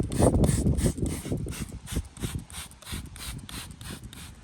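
Steel wool scrubs Ford Barra turbo parts coated in degreaser, a rapid series of rough rhythmic rasping strokes, close and loud, with no talking.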